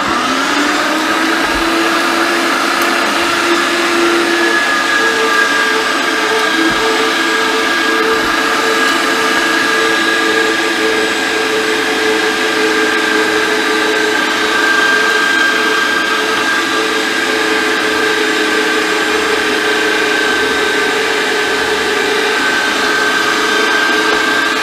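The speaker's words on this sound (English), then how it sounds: "the grinder will do the job of mixing it again for the second time" An electric meat grinder runs continuously as beef is ground, a loud, steady motor whine with a sustained tonal hum that holds for the full length without speech.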